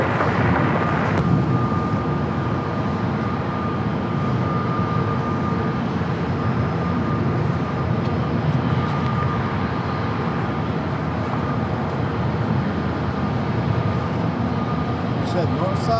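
A passenger airliner arriving from Charlotte on approach to land at Los Angeles International Airport: a continuous broad jet roar mixed with wind buffeting on the microphone, heard with faint voices in the background.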